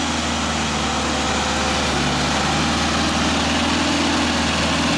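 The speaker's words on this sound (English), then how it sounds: "Fast. That's fast idle." A Genie boom lift engine runs at fast idle, a loud, steady diesel-like drone with constant low rumble and vibration throughout, close by with no talk.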